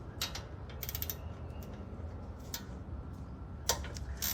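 A ratchet loosening the lower ball joint nut on a 2004 Dodge Ram, with quick bursts of clicking pawl strokes heard close, separated by short pauses, over a low background hum.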